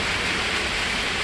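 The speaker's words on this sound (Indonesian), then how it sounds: "Di tempat jualan kita juga ternyata hujan ya." Rain pours steadily over a street food stall in Samarinda, a dense, even hiss that fills the whole moment without pause and with no voices.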